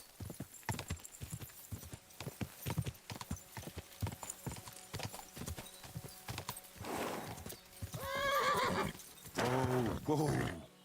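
A horse's hooves clip-clop in a steady, even rhythm in Kingdom Come Deliverance 2 on hardcore mode. Toward the end the horse gives loud whinnies and snorts.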